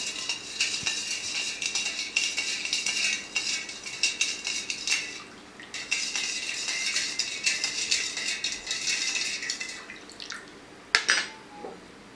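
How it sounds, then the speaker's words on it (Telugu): A spoon stirs sugar into fresh lemon juice, with bright repeated clinks and scrapes against a glass or vessel, close and continuous, pausing briefly midway and ending with a few sharper knocks. "తర్వాత ఇందులో చక్కెర కలుపుకోవాలి. మీకు తగినంత కలుపుకుంటే చాలు. తర్వాత కలిపేసుకోవాలి"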